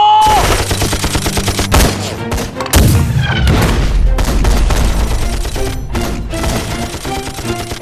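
Dense, loud gunfire rages through a Korean War battle scene at Chosin, where Chinese volunteer troops clash with American tanks in a reed marsh. Rapid bursts and automatic fire overlap with heavy booms and thuds, continuing without a break.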